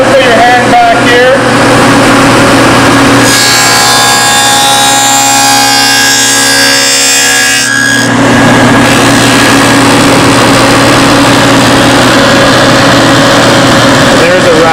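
A table saw cutting a rabbet in wood: a loud steady machine whine and hum throughout, with the blade's bright, dense cutting noise rising for about five seconds in the middle before it settles back to the running drone.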